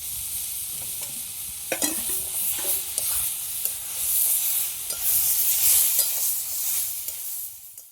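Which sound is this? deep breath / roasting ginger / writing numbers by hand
roasting ginger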